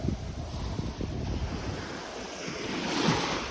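Surf rolling onto the beach at Hua Hin in Thailand, with steady wind buffeting the microphone; the waves wash continuously at moderate level with no voices.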